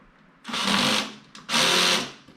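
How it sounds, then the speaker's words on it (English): A cordless drill driving screws into a bookshelf, two whirring bursts of about half a second each separated by a short pause, loud and close with no talking. "If you haven't worked with a drill like this, don't go over with it too much."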